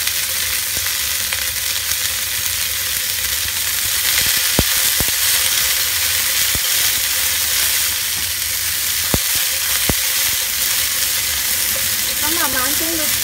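Water spinach stir-fried with garlic and mushrooms in a wok, a steady broad sizzle running throughout with a few sharp clicks of the spatula against the pan; no talking.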